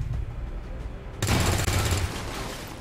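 A sudden loud burst of automatic gunfire in the video game XCOM, shooting through a wall, erupts after a low rumbling lull and crackles densely for over a second.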